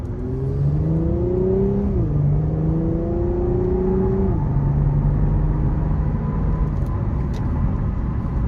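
A 2021 Infiniti Q60 Red Sport 400 with a 400-horsepower engine accelerates hard from inside the cabin, its engine note climbing through two gear shifts before settling into a steady, loud drone.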